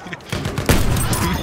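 Shotgun fire in Battlefield 1, a loud close blast amid rapid bursts of in-game gunfire, with a voice briefly heard underneath.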